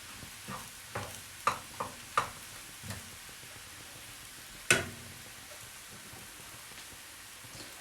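Onions fry gently in a pan over medium heat with a soft, low sizzle, broken by several distinct clinks and taps of a utensil against the pan, one louder near the middle.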